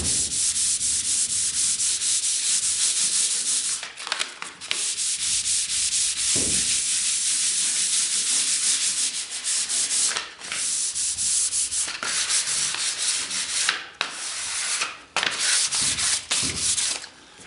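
Hand sanding of undercoat high spots on a wooden Welsh dresser, a steady close abrasive rasp running almost continuously, broken by a few brief pauses between strokes.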